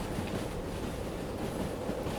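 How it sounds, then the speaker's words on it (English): Railway rumble from a train in the train-driving game Derail Valley as it starts to move: a steady, dense low clatter and hum that runs unbroken and fairly loud throughout. "See back in the train starting to come round."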